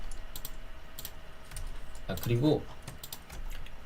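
Scattered keystrokes clatter on a computer keyboard during an After Effects session, including a Ctrl and tilde shortcut press, with a brief spoken word in Korean partway through.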